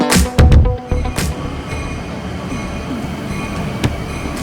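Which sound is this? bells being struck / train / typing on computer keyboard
train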